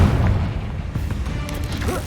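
Confringo fire blast spell from Hogwarts Legacy, a dense rumbling burst that starts strongly, followed by a sustained crackling roar with several sharp hits partway through, all close and loud.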